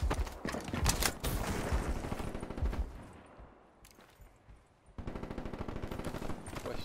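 Bursts of automatic gunfire in the video game Black Ops 3, loud rapid firing that fades into a quieter lull before a renewed steady volley of shots.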